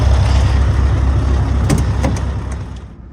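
A heavy truck's engine rumbles loudly and close by as it pulls away after the park brake is released, with a few sharp clicks midway before the sound fades.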